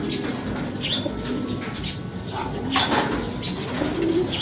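Racing pigeons coo softly nearby in a loft, with short chirps and a flutter of wings over steady background noise.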